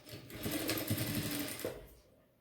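A sewing machine stitches a boxer brief seam in a tailoring class, a steady close mechanical whir lasting about a second before winding down.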